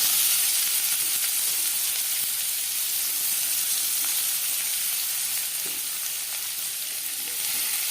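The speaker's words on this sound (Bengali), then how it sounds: "মাছ ভেজে নেওয়া তেলে দিয়ে দেবো পেঁয়াজ কুচি।" Chopped onion frying in oil left over from frying fish, a steady loud sizzle and hiss that stays even and close throughout, with faint stirring and no voices.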